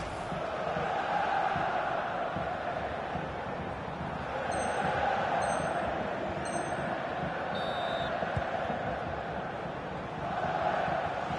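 Stadium crowd noise from an FC24 football video game match in Italy's top division, a steady, broad roar of fans rising and falling gently throughout, with a few faint high whistles or pings briefly above it.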